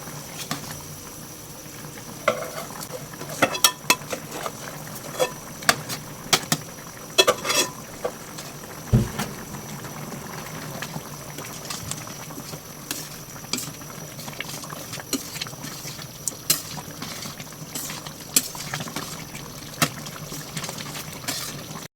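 Arroz caldo of glutinous rice simmering in a pan, giving soft, uneven bubbling and popping with scattered sharper blips over a low steady hiss, heard close with no talking.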